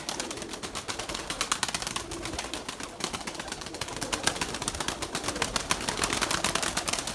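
A pair of pigeons settling onto the ground: a dense, continuous stream of pigeon sounds, with rapid fluttering and soft cooing, close and fairly loud throughout with no talking.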